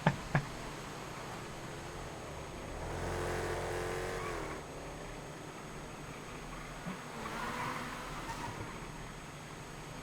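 Racing car engines rev and surge in a GTA FiveM race, two broad swells of accelerating engine noise rising and fading over a quiet background, with a couple of sharp knocks at the start.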